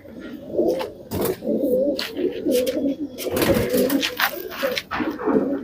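Parkanch pigeons cooing nearby in a loft, low throaty rolling coos repeated continuously, with bursts of wing flapping and rustling, no talk.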